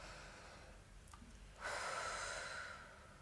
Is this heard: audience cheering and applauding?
no